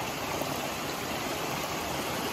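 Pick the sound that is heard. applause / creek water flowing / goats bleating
creek water flowing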